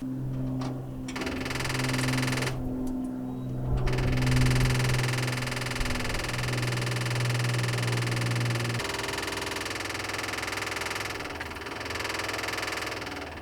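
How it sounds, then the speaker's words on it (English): A steady mechanical whirring and humming with a constant buzzing drone runs throughout as the fuel pump is primed on a 1957 Dodge that had sat for years, easing slightly in tone partway through. "I'm just going to prime the pump and see what comes out of this line"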